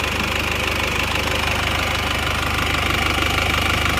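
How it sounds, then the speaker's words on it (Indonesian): Isuzu Panther diesel engine idles after repair, running slightly rough with a steady, loud knocking chatter close by and no voices over it. "ini mesin ini sudah beres, sudah normal, tapi kurang halus dikit"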